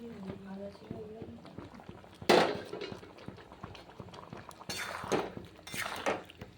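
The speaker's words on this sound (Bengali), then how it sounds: "এখন এর মধ্যে আমি দিয়ে দিচ্ছি ভেজে রাখা আলু আর পটলগুলো" Fried potatoes and pointed gourd tipped into a pan of spice masala, a sharp sizzling splash followed by clinks and scrapes of a spoon, with a person talking throughout.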